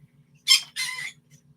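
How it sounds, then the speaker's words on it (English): Pet birds squawk twice in quick succession somewhere in the background of an indoor room, each call short and harsh against near silence. "I'm sure you probably hear my birds in the background"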